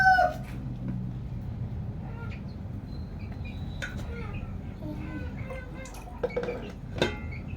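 A chicken clucks and murmurs close by over a steady background hum, with a few brief sharper calls near the end.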